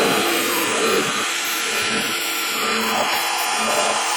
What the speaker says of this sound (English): Let's get over to the pillar drill, get some exciting bits done.